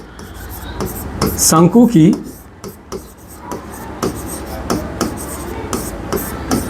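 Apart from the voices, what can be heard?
writing on a board during a maths lesson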